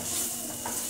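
Onion masala sautés and sizzles in a pan while being stirred, a steady close frying hiss with a soft scrape partway through and no voices.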